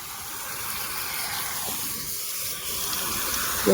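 A small waterfall splashes in a continuous, steady hissing rush of flowing water, close and even, with no voices.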